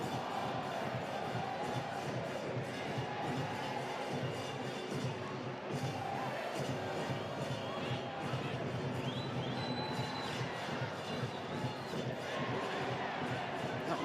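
A stadium crowd at a Concacaf League football match between LD Alajuelense and CD Aguila keeps up a dense, steady roar of cheering and chanting for Alajuelense, distant and continuous, with a commentator's voice faintly underneath.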